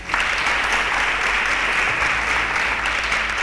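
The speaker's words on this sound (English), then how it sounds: "A round of applause for Towoju." Audience applause at a student quiz competition, a dense continuous burst of clapping that stays steady and loud for several seconds.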